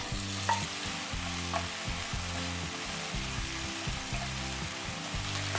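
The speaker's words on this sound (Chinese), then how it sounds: "油热以后把肉丝倒进锅里划散" Shredded pork hits hot oil in a wok and sizzles steadily, with a spatula stirring and scraping through it in repeated strokes, close and loud with no talking.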